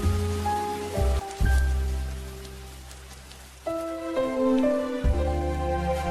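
Rain falls steadily in a Korean drama scene, a constant hiss under sustained tonal notes that change every few seconds.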